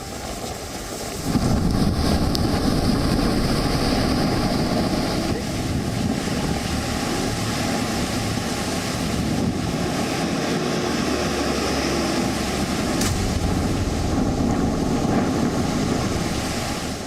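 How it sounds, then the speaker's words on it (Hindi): Stormy sea on the Gujarat coast roars continuously under strong wind, a loud, sustained broadband rumble of crashing surf and gusts that swells slightly after the first second and holds steady throughout, with no talking. "समंदर आज गरज रहा है।"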